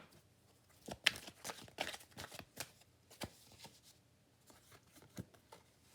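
Tarot cards are shuffled for a reading in soft, close, irregular bursts of riffling and sliding, quiet and alone with no talk.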